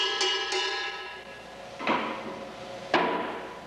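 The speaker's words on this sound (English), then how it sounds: "This is the sound of the original chassis." The metal of an original Austin-Healey chassis rings out from a few sharp taps, each strike leaving a bright, lingering metallic resonance, heard up close with no talking.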